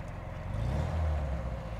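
Porsche 356 B with a 60 horsepower engine downshifting in traffic, a low throbbing engine drone heard from the cabin that swells briefly as the revs change, close and steady.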